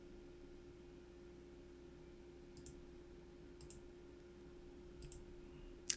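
A few soft double clicks of a computer mouse, spaced about a second apart over a faint steady hum, quiet and close.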